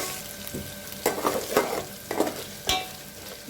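Ginger garlic paste frying in a pan for Guntur gongura pulav, a low sizzle broken by several sharp scraping stirs of a spatula, close and clear with no talking.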